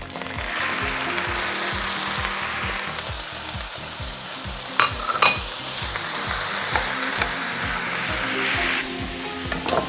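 Noodles frying in oil for Mongolian noodle stir-fry (goimontoi khuurga), a steady loud sizzle with rhythmic scraping of a utensil against the pan throughout, and a couple of sharper clatters near the middle.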